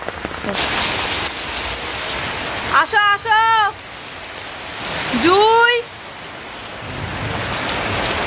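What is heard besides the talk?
heavy pouring rain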